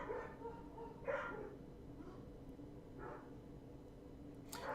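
Neighbor's dog barking at a distance, a few faint separate barks and yips spaced about a second or two apart over a quiet room background.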